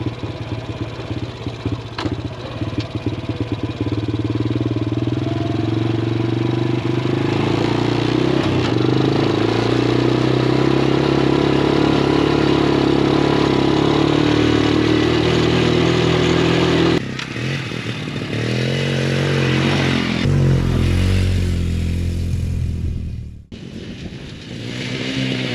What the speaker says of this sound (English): me acting like a 10-year-old zooming around on the quad bike